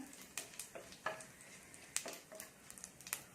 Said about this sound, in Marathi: जिरं मोहरी चांगलं तडतडू द्या।